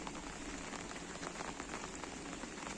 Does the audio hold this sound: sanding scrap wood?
no